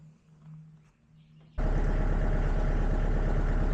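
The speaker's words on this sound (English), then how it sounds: "I don't know if you can hear it out there running or not" After a quiet low hum, a tractor engine hooked to a sawmill PTO shaft suddenly roars up, loud and steady, with a constant rumble to the end.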